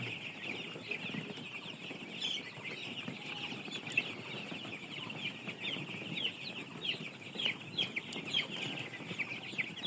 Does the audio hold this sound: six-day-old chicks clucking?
yes